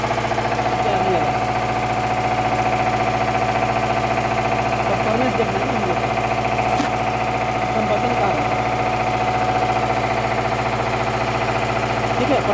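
A four-stroke diesel engine runs steadily during a load test, giving a constant loud droning hum with a persistent mechanical whine, while faint voices speak over it.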